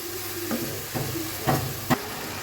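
Spice masala sautés in a pan for shutki bhuna, a close steady sizzle broken by three or four scraping stirs, no talk.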